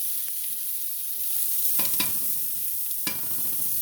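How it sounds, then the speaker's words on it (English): Vegetables sautéing in a preheated skillet while an omelet is being made, a loud continuous sizzle up close with a few sharp clicks and scrapes of a utensil, no talking. "because I had preheated my skillet, you know, so my vegetables can go ahead on and saute."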